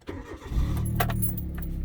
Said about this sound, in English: Just started up the car.